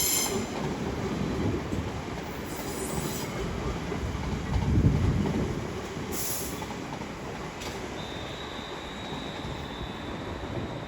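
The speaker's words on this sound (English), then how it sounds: "a terminating London Overground Railway service from Birmingham New Street, 350-237 leading, with 350-258 on the back" A London Northwestern Class 350 electric unit pairing, 350-237 leading with 350-258 behind, pulls into London Euston on a terminating service from Birmingham New Street. Its wheels rumble and squeal steadily under the station roof, with no voices.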